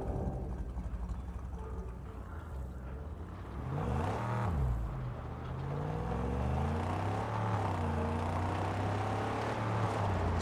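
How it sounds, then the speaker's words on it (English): A humble buggy in the Mad Max video game drives along with its engine droning steadily, then revving up with rising and falling pitch sweeps midway, staying loud and continuous to the end. "Rev it up and go, Saint."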